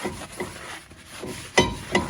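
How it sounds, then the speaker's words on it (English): Soft, repeated rubbing and scuffing strokes of a towel wiping a brake rotor of a 2010 Town and Country, close by, with a few sharper swipes near the end. "You grab a towel and you just wipe it off"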